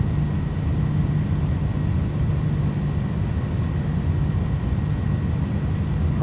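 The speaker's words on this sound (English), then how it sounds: "Takeoff power set. Airspeed's alive." Airbus A310 jet engines at takeoff power in a flight simulator game, a loud, steady, unbroken roar with a low rumble that holds at constant strength throughout.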